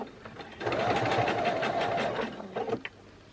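A sewing machine stitches across a coiled rope bowl, running in one steady whirring burst of about two seconds, close and clear, then stopping with a few soft clicks.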